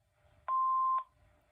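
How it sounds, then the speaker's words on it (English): A single clean electronic beep from a Panasonic K-TG4021 answering machine, lasting about half a second, clear and isolated against a quiet background. "Please leave your name and phone number after the beep."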